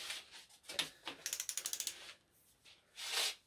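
Ratchet wrench clicking in a quick run of about eight even clicks as bolts on a BMW M50 engine are tightened to 20 foot-pounds during a forged rebuild, close and fairly faint, with a few scattered tool clinks around it.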